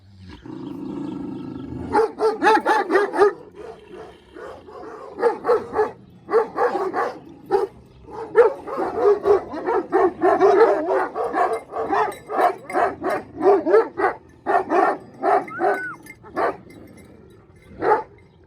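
Dogs bark repeatedly in rapid, overlapping bursts, loud and close, with several animals yapping and barking together almost continuously.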